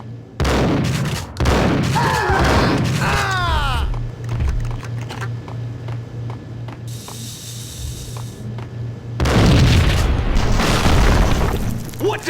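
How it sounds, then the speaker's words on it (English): A bomb goes off in the video game Max Payne with loud, booming blasts and mechanical rattling. A steady low hum fills the quieter stretch before a second heavy burst of rumble. "I thought it was a bomb for sure"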